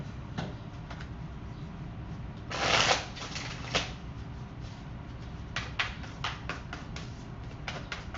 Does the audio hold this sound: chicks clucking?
no